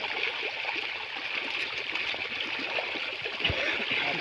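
Water runs steadily through a stream channel that holds water all year, a constant close rushing hiss with faint gurgles and no clear talk.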